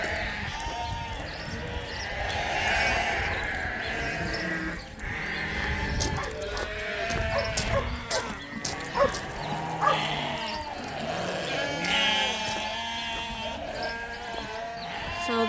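Sheep and lambs bleat repeatedly in overlapping calls on a farm as ewes are let out onto the fields, some near and some farther off, with a person's voice in the mix.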